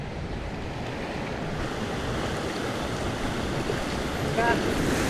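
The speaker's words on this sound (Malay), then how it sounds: "Tengok air apa ombak naik kan." Ocean waves rising and washing around a fishing boat at sea, a steady loud rush of surf and wind buffeting the microphone, with a faint brief whirring near the end.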